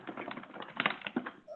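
Rapid, uneven keyboard clatter over an online meeting call, a burst of close key taps with a couple of louder strikes, then a brief pause.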